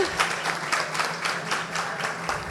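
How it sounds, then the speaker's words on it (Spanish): Audience applause for Rebeca at a science talk in Manta, a soft, continuous patter of many hands with a faint pulsing rhythm, somewhat distant and muted. "un aplauso sí para Rebeca"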